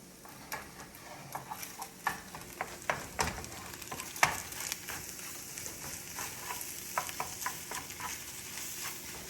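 Eggs for fried rice frying in a pan while being stirred, with a soft steady sizzle under a rapid run of light scraping taps from the spatula.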